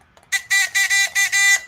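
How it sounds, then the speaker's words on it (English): Game-show style electronic buzzer on a live stock-market stream, sounding as a loud harmonic tone in five rapid back-to-back bursts, close and clear with no talk over it. "buzzer it is."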